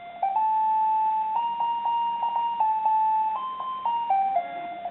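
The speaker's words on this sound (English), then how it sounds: "So that's the beep. And that's what you get at 12 o'clock." A vintage 1985 Casio MQ-1200 melody alarm clock calculator plays its electronic beep melody at noon, a sequence of thin, steady square-wave tones stepping between pitches, clear and close with no talk over it.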